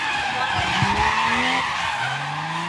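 Drift car tires squeal and skid loudly through a spin during a Japan International Drift Challenge solo run, with gliding tonal screeches over steady engine roar and a commentator talking throughout.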